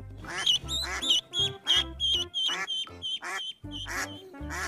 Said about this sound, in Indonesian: Dan di dalamnya ini ternyata ada bebek.